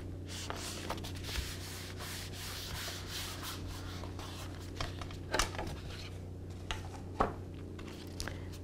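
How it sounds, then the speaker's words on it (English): Paper is creased and pressed flat while folding a pop-up birthday card, making a soft, steady rubbing and scraping with a few sharper crinkles near the end, close by, over a faint low hum. "We can then crease that little fold and just push this section down as you close your card over the top."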